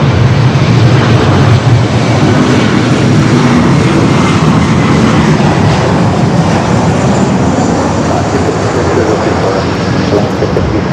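An Airbus A350-1000 airliner at Los Angeles International Airport, a loud, steady broadband engine roar that fills the whole stretch without letup and with no voices over it.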